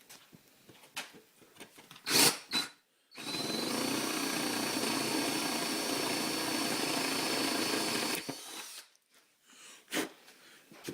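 Power drill boring a pilot hole through wood for a top-bar beehive: about five seconds of loud, steady whirring close by, with brief bumps and handling noises before and after.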